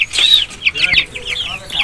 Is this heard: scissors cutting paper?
no